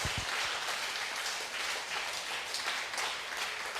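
A church congregation applauds at a healing mass, dense steady clapping from many hands at moderate distance, filling the whole stretch without a break.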